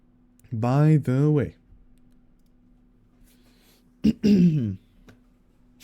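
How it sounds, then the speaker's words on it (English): A person clears their throat twice in short, voiced bursts close to the microphone, separated by a few seconds of quiet room hum. "Let me clear my throat."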